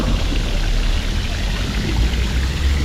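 A small street fountain in downtown La Jolla, San Diego, giving a steady, loud rushing splash of falling water that stays constant throughout with no voices.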